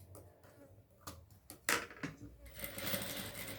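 A sewing machine stitches a seam on a pencil case, including a short backstitch, producing quiet rapid ticking bursts with soft handling noises between them.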